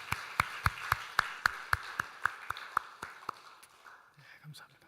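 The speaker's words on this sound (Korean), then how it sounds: "다시 한번 모두를 위해서 축하 박수하도록 하겠습니다" Church congregation clapping together in celebration during a Sunday service, a burst of about a dozen loud, sharp, evenly spaced claps that gradually fade into quieter room murmur.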